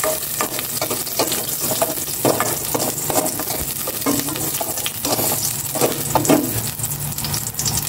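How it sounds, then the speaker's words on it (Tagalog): Garlic sautéing in oil in a home kitchen pan, a steady close sizzle broken by repeated scraping stir strokes at a loose, uneven rhythm, with no voices. "Igisa ko na po itong bawang."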